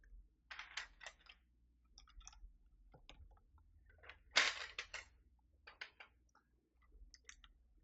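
Typing on a Keychron V6 Max mechanical keyboard fitted with foam: irregular bursts of soft, muffled keystroke clicks, close and fairly quiet, with one louder flurry midway and no talking.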